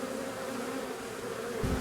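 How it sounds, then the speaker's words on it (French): Honeybees buzz steadily around a small nucleus hive after a first swarm capture, a close, continuous droning hum with no voices. "il va y avoir des abeilles qui vont voler ici, qui vont voler, qui vont être perdues"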